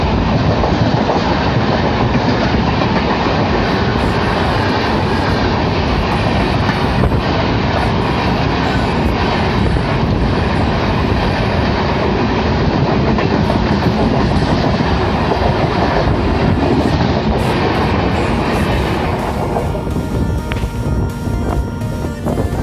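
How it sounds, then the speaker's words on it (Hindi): A Lokmanya Tilak Terminus–Varanasi Express hauled by a Gomoh-based WAP7 electric locomotive crosses on an electrified line, giving a loud, steady roar of rumbling wheels and rhythmic clatter that lasts throughout with no voices. "दोस्तों और एक ट्रेन क्रॉस होने वाली है। दोस्तों ये लोकमान्य तिलक टर्मिनस वाराणसी एक्सप्रेस है, जिसमें गोमोह का WAP7 लोकोमोटिव लगा हुआ है।"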